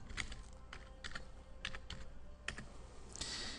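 Keys clack on a computer keyboard in a short, quiet burst of a few separate taps with brief pauses between them.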